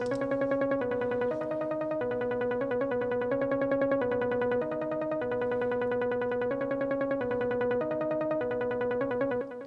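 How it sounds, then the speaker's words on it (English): A synth pulses in a steady, rapid arpeggio, notes cycling up and down in an even rhythm, bright and continuous with no voices. "I just took the synth and I added an arpeggiator in it"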